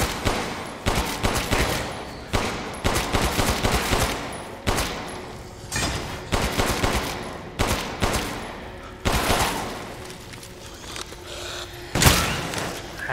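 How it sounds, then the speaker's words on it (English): Pistol gunfire in the video game Resident Evil Village: a steady run of loud, close shots, mostly in quick pairs and bursts, with one heavier blast near the end and no talking. "All that ammo I'm wasting. The thing that sucks about this gun is that it doesn't feel very powerful."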